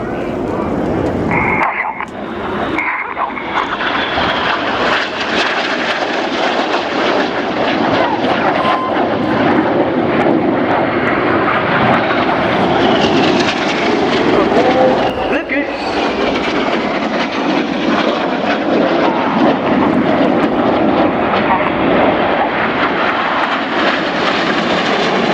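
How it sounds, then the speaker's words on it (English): Red Arrows display jets flying past at an air show, making a loud, sustained roar that swells and shifts as they pass, with a commentator's voice over the noise throughout. "Now these 4 aircraft are now closing at 850 miles an hour."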